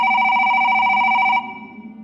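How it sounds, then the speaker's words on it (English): A house telephone ringing: one loud, close electronic ring with a trilling warble that cuts off and leaves a fading tone. "until the house phone rang."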